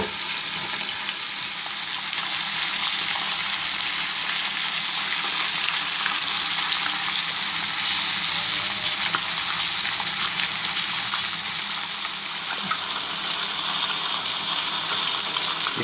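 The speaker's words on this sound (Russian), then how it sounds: "Отправили рыбку на сковородку, разогрели сковородку." Steady, loud sizzling of small roach fish frying in hot oil, a constant crackling hiss that barely changes throughout, with no voices.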